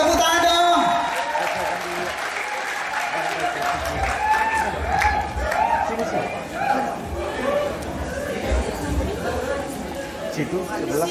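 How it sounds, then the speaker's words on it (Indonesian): A crowd at a Christmas celebration with a solo contest applauds among loud chatter and overlapping voices, clapping blending into a dense, lively hubbub that stays strong throughout. "Kasih tepuk tangan dong."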